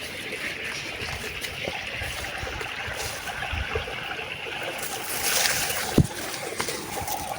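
Water running through a rice-field irrigation channel outdoors, a steady broadband rush with soft splashes and one brief knock near the end, fairly close and continuous.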